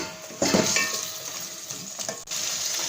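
Green masala paste fries in hot oil for mutton pulao, a soft sizzle under intermittent spoon scrapes and clinks against the pot, close and moderate in level.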